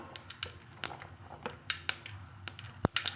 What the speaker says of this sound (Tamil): கடுகு பொரிஞ்சிச்சுங்க